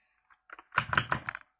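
A computer keyboard in a gaming setup clatters with a quick flurry of close, crisp keystrokes, starting with a few scattered taps and building into a dense burst before stopping.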